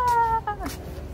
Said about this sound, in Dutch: Katten!